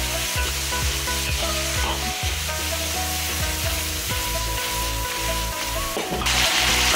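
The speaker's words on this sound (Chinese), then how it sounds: "大火快速翻炒均匀。" Sliced beef tongue stir-fried over high heat in a wok with chillies, ginger and scallion, a loud continuous sizzle with repeated scraping tosses of the spatula, no talk.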